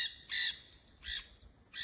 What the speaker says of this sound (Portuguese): As araras já despertaram, a vida segue.